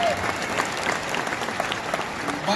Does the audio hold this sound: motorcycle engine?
no